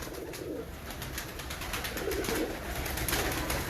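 Royal Teddy pigeons give low, gentle coos close by, a few soft murmuring calls building toward the middle against a faint constant hum.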